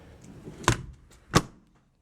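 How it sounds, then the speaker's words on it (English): A 1940 Ford Deluxe Coupe door is pushed shut, making two fairly soft, close thunks about two-thirds of a second apart, with quiet rustling between them. "Door, I just push shut."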